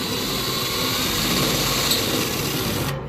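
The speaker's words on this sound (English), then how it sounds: "So we're just going to take that burr off." Power tool taking a burr off metal, a steady high-pitched whine that runs continuously and up close for about three seconds, then cuts off abruptly at the end.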